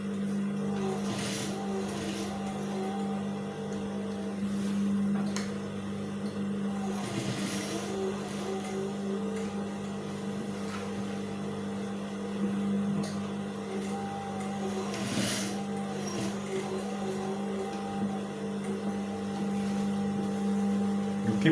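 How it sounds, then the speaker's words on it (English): Sewing machine stitching a senator placket collar, a steady continuous motor hum running throughout at an even level with no speech. "You keep on sewing like this."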